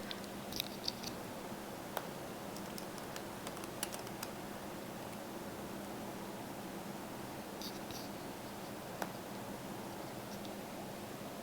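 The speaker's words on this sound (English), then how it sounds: "So now I'm going to type it into the search box and add it to my map." Light typing on a computer keyboard while entering a place into a map search box, soft scattered keystrokes heard quietly over a steady background hiss.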